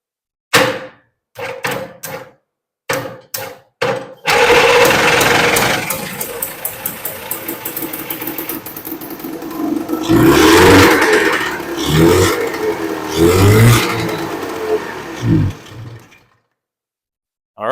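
A Terra-jet amphibious vehicle's engine cranks with a few short bursts, then catches and runs roughly, revving up and down in loud uneven surges before cutting out, with no talk over it.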